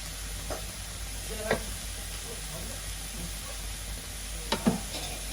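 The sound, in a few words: sautéing and stirring with grated coconut and spice powder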